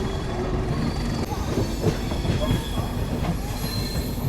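Samata SF Express train running on rails near Gwalior, a steady loud rumble of wheels on track with metallic squealing and clatter throughout.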